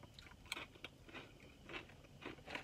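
Crisp, irregular crunching of Kroger Private Selection pimento cheese and harissa potato chips being chewed close up, bite after bite over a few seconds, quiet and without speech.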